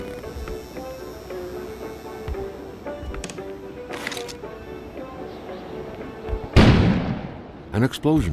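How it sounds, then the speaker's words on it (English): A sudden loud blast goes off outside in the video game Kona, a broad roaring burst about two-thirds of the way through over a steady bed of game music and ambience, followed by a couple of shorter sharp bursts. "An explosion suddenly occurred outside."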